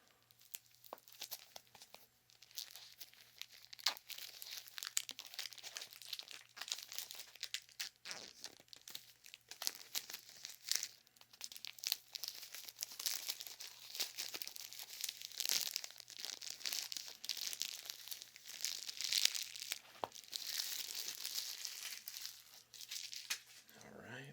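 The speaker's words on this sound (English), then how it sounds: "We will get some plastic unwrapping sounds here." Plastic wrapping is peeled and crinkled off pocket journals at close range, giving continuous soft crackles and tearing rustles over about twenty seconds, fairly quiet and intimate in tone.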